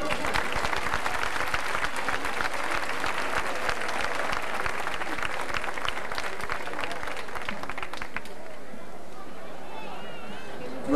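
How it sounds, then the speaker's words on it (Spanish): A crowd at a 2000 town festival (Festes Majors) applauds as a festival sash is handed over: loud, sustained clapping mixed with crowd chatter, easing after about eight seconds into quieter murmur. "Un aplauso para ella."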